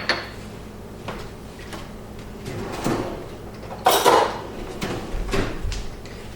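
A kitchen drawer is pulled open and a spoon is grabbed. There is a sliding rattle, and metal clatters loudly midway. Scattered knocks and thumps are heard before and after, with no talking.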